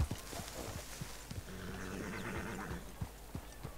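Horse hooves clip-clop in Red Dead Redemption 2 as the horse arrives at camp, a series of distinct hoof thuds in uneven walking rhythm over soft ambient background, moderately close, no talk.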